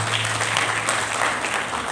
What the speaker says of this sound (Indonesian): Kasih tepuk tangan di belakang beliau.